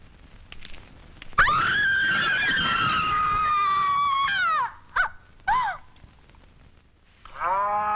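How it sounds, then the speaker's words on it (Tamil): A water buffalo at a riverside washing place lets out a long, loud, drawn-out moo, then several shorter calls, all close and clear with no talking. "நான் துவைக்கிற இடத்துல தான் இந்த எருமாட்டை விடுவாங்க,"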